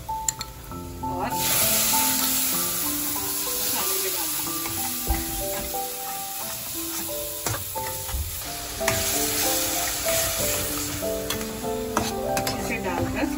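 Masala of turmeric and red chili mixed with water, frying in ghee in a pan for chicken curry, gives a steady, close sizzle over the whole stretch, with stirring scrapes and faint background music.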